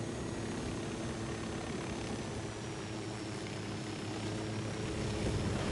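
A steady helicopter rotor drone hums throughout, even and moderately loud, with a faint whine above it and no talking, from the video game Ghost Recon Wildlands.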